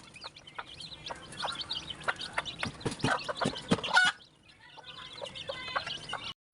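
Chickens clucking close by, a busy run of short repeated clucks and squawks from several birds, briefly dropping quieter before resuming.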